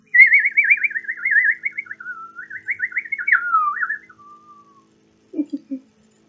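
A bird sings a long warbling, trilling phrase for about four seconds, then falls silent before a brief lower chirp near the end.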